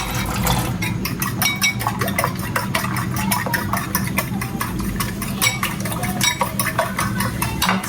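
Four eggs whisked in a bowl, a fork or utensil clinking rapidly and steadily against the sides in close, busy strokes over a low hum of background noise.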